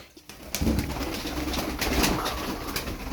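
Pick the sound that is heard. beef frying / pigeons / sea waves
pigeons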